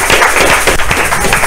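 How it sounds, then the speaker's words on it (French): An audience at a televised debate program claps, a brief burst of dense, loud applause heard alone. "On applaudit."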